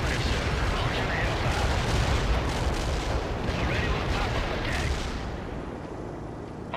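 An Apache helicopter attack run in World in Conflict unleashes dense, continuous bursts of gunfire and explosions, loud and rolling, easing slightly toward the end.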